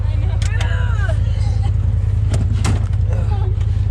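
A turbocharged Polaris RZR side-by-side idles with a steady low engine rumble underneath, while people talk close by over it.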